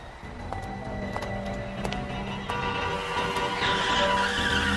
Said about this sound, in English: That car, it hit him.